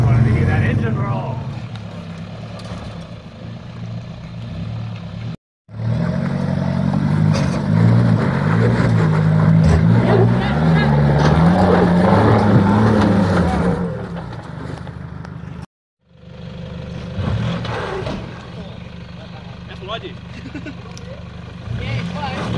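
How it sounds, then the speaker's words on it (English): A loud off-road 4x4 engine churns and revs for several seconds, dropping out briefly twice, with a low throbbing rumble that rises and falls in pitch. "He just wanted to hear that engine roll"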